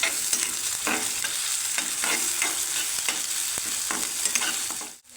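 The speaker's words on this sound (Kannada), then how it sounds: "ಈರುಳ್ಳಿ ಲೈಟಾಗಿ ಫ್ರೈ ಆದ ನಂತರ 1 ಟೀ ಸ್ಪೂನಷ್ಟು ಶುಂಠಿ ಬೆಳ್ಳುಳ್ಳಿ ಪೇಸ್ಟನ್ನು ಹಾಕ್ಕೊಳ್ತಾ ಇದ್ದೀನಿ" Onions with a spoonful of ginger-garlic paste fry in a pan for a brinjal and pea gravy, giving a steady close sizzle broken by repeated scraping stirs, then cutting off abruptly at the end.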